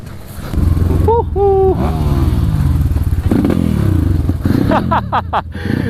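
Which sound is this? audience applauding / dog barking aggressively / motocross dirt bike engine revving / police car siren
motocross dirt bike engine revving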